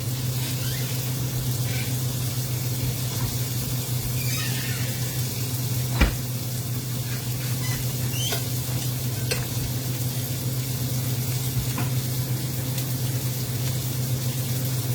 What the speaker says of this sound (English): We're just searing both. Just the meat side seared, guys.